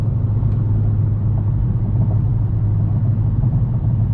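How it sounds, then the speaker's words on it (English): Steady low rumble of a car interior on a road trip, a continuous engine and road drone that stays loud and even throughout with no voices. "we need to put the background car noises back on again."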